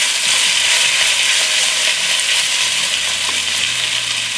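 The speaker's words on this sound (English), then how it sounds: "give them a quick stir" Leftover stir-fry vegetables, seaweed, yu cai, mushroom, bell pepper and onion, sizzle steadily in a hot pan as they are stirred, a loud, continuous frying hiss with faint scraping throughout.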